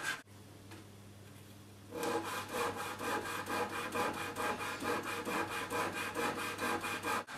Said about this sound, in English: You can use a polish and structuring pad for this,